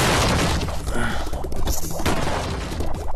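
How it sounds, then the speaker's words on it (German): Explosions in the VR game Pirate Frenzy on a Pico 4 headset come through as harsh, crackling, distorted booms, a loud burst of noisy bangs that barely lets up. "der Sound ist voll am Kratzen hier, wenn hier irgendwas explodiert"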